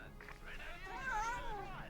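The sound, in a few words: pet cat Basil meowing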